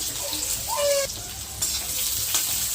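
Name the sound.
onions and fenugreek seeds frying in hot oil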